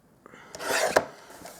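A paper trimmer slices cardstock for a handmade greeting card in one short, close, raspy stroke that swells and ends with a sharp click.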